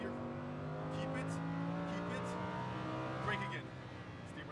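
A Lamborghini Huracan LP580-2 on a race track pulls at full throttle, its engine note droning steadily and climbing in pitch, close and constant, with a brief drop near the end.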